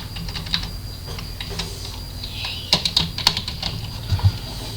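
Rapid keystrokes on a computer keyboard, close and moderately loud, as a short name is typed into a form, with a steady background hum and no speech.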